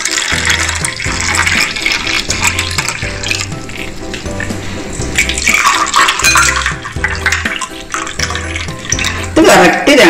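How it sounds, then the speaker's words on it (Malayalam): Homemade lemonade is poured into two glasses as a continuous splashing, gurgling stream of liquid, close and fairly loud, lasting about ten seconds. "അപ്പൊ നമ്മുടെ ഈ ഡ്രിങ്ക് നമുക്ക് ഗ്ലാസ്സിലേക്ക് പകർന്നു കൊടുക്കാം."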